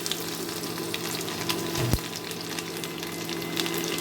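Chopped garlic and a couple of dried red chillies fry in hot oil with an even, continuous sizzle and a single sharp clink of utensil on pan midway.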